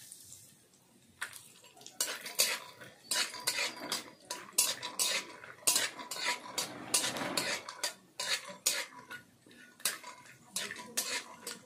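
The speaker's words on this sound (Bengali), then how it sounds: "চিনেবাদামটা ভেজে নেব।" Peanuts frying in white oil in a wok, metal spatula scraping and clinking in a rapid irregular rhythm over a faint sizzle, close and without voices.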